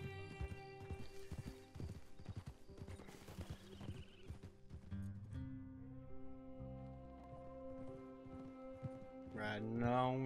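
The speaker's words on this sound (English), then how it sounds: "Riding on a horse, riding on Impala." Horse hooves clop in a quick, steady rhythm during a ride in Red Dead Redemption 2, with a whinny or snort late in the run and a game music score underneath; someone talks over part of it.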